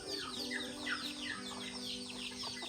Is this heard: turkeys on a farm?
yes